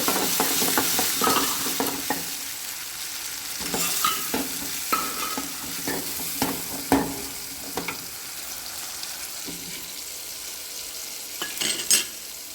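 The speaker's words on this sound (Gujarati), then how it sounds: "આપણી ડુંગળી સડી જેવું લાગે તો આપણે ડુંગળી સડી જઈએ તો નાખી દઈએ ટમેટા મરચાં" Onions frying for kantola (spiny gourd) curry, with a steady hiss under repeated scraping and clinking of a spoon stirring the pan, close and fairly loud, several sharper knocks near the end.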